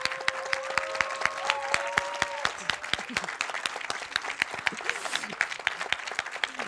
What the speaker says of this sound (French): j'aimerais qu'on l'applaudisse bien fort